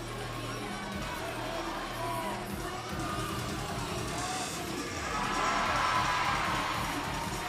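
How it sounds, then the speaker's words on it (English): Crowd in an arena at a world cheerleading championship final chanting the "Aussie, Aussie, Aussie" cheer for Australia, a dense roar that swells louder toward the end, with a commentator talking over it. "it's great that over the years, this has become a traditional cheer for Australia"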